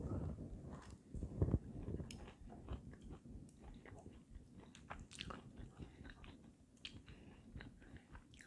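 Crunchy bites and steady chewing of a low carb keto cookie made with tofu, close and fairly loud, repeating irregularly for several seconds with no talking.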